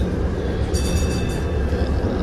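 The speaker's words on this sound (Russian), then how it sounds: "Я дождалась вот этого трамвая." A San Francisco tram pulls in with a steady, loud rumble of wheels on rails, a faint metallic squeal riding over it for the whole stretch, with no talking.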